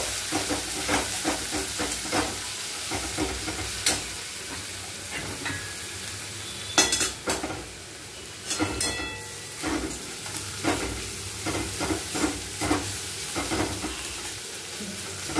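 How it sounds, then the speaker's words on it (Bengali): Spices and chopped garlic stirred in a hot pan for a home-style chicken curry: continuous sizzling and hiss with frequent clattering spatula scrapes and taps, close and fairly loud. "এবার হালকা করে রসুন কুচি দেব পরিমাণ মতো, নাড়িয়ে নেব মশলাগুলো"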